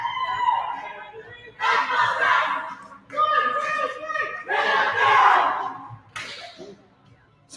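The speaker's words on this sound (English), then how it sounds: "Some great chants." Bowling teams at a Bayside Bowl finals event shout and chant together in loud, rhythmic bursts, with group voices swelling and dropping between chants in a reverberant hall.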